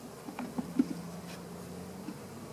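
Honeybees feeding on sugar water hum in a soft, close buzz, with a few brief louder passes of individual bees over a low steady drone.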